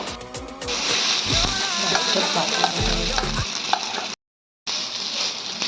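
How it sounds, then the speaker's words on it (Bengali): A slice of seasoned bread fries in hot oil on a tawa, with a dense continuous sizzle and crackle, a few louder spatters and scraping stirs, and a brief silent gap before the frying resumes. "তেল খুব ভালোভাবে গরম হয়ে গেছে এবার মেখে রাখা পাউরুটিটা আমি এর মধ্যে দিয়ে দেবো"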